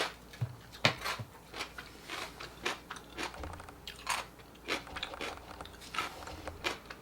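Someone crunches on pickled radish at a Korean spicy seafood noodle soup meal in Seoul, with repeated crisp bites and chewing in an irregular rhythm, very close and clear with no talking.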